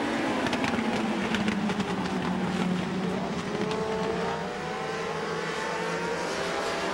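Race cars at the 1996 Summer Legends Shootout roar past together on a ragged green-flag start, a dense, loud engine drone with overlapping pitches sliding up and down as the pack thunders by, with no talking.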